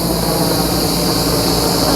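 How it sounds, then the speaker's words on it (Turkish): Loud, steady roar of a helicopter overhead near a beach during a forest fire, a continuous dense engine and rotor noise with no breaks, heard without any talking. "Şimdi eve gideceğiz ve bu galiba son helikopter."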